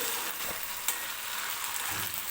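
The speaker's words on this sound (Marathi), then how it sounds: "आपल्याला बटाटा तेलामध्ये फ्राय करून घ्यायचा आहे" Diced potato frying in hot oil for sabudana khichdi, a loud continuous hissing sizzle close up with a brief stir or clink partway through, no one speaking.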